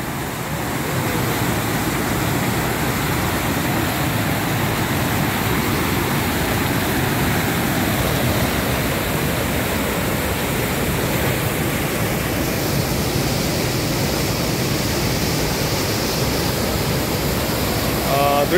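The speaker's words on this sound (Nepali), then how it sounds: "अत्यन्त फोर्सले पानी बगेर आइरहेको छ, यो ड्यामलाई पनि नाघिएको छ" Water pours forcefully over a dam on a drinking-water project, a loud, steady roar of rushing flow that holds without a break throughout.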